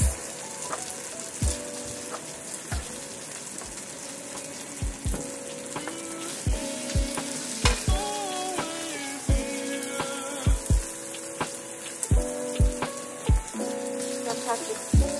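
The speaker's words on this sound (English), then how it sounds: "Now I'll add the carrots." Carrots crackle and sizzle in a hot pan of chicken stir fry, with dense spattering pops and several sharp clatters of a utensil against the pan, quiet and close.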